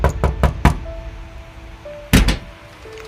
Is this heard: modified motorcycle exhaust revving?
no